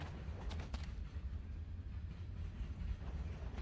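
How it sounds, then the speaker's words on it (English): A train rolls along in the video game Life is Strange: Before the Storm, a low steady rumble with a few faint rattling clacks early on, heard alone at moderate volume. "We're getting on a train."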